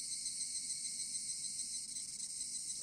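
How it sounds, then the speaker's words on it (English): Cicadas in Higurashi When They Cry drone steadily and loudly in a continuous, unbroken high buzz, with no voices. "Cicadas remained annoyingly loud"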